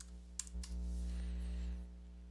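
A few quick keystrokes tap on a computer keyboard, close and quiet, in a brief burst followed by a faint steady background hum.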